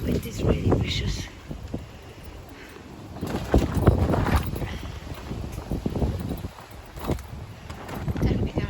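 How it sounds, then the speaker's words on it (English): Strong storm wind gusts through a garden, buffeting the microphone with a continuous rushing roar that swells and eases, with rattling and knocking of garden fixtures under the gusts. "the wind is really vicious"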